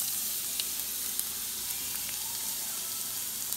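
Chopped garlic hits hot cooking oil in a pan and sizzles in a steady, bright hiss with faint crackles throughout, close and continuous, with no talking.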